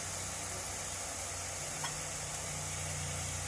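Tomato puree with chili powder sizzling in a pan while cooking a Bengali chicken bharta, a steady broadband frying hiss with low hum running throughout.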